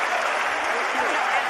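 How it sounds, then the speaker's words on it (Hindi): Applause from a live studio audience at a Chhattisgarh radio show, a steady dense clapping that fills the short moment on its own. "मैं चाहता हूँ थोड़ा बहुत ताली मोरो पर बजा दूँ"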